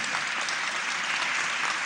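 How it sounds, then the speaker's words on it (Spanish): An audience at a public government presentation on human trafficking gives dense, steady applause that fills the room without letup. "Un aplauso para el señor"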